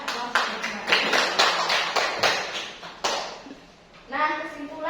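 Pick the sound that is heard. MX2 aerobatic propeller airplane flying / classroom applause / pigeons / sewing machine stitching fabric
classroom applause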